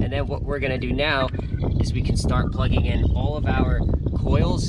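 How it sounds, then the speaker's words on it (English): Someone talks steadily over heavy low rumbling wind buffeting the microphone, which persists throughout. "Sorry about the wind, it's very windy here for some reason."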